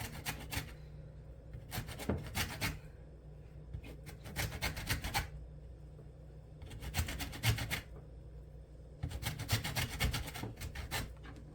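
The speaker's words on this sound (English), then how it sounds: "By violently ripping the skin of this fruit to shreds, we will zest." Lemon skin is grated for zest for lemon bread, heard as five bursts of scratchy rasping strokes about a second or two long each. Quiet pauses separate the bursts, and no voices are present.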